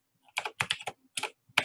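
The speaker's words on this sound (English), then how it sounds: "Wrong typing, Mrs. Thomas." Quick bursts of computer keyboard typing, several close clicking keystrokes in short clusters separated by brief pauses, heard alone without speech.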